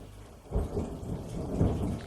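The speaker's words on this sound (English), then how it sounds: "Hear that? That's the thunder." Thunder rolls through a thunderstorm with two deep booms close together over steady rain, loud and near, with no one talking.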